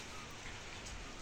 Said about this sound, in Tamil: மழை வர மாதிரி இருக்குது, தூறல் போடுது.